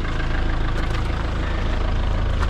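A Renault Scenic with a 1.9 engine idles nearby, giving a steady, rough low rumble with a continuous even throb and no revving across a couple of seconds.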